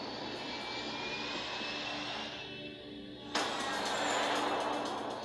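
Japan Airlines Flight 123 airliner diving and accelerating with inoperable control surfaces, a loud continuous roaring rush of engine and airflow that dips briefly then surges louder, with no talk.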